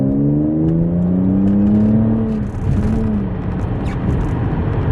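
A tuned Audi V6T car accelerates at half throttle, its engine note rising steadily in pitch through the gears with a brief dip between shifts, loud and close, no talking.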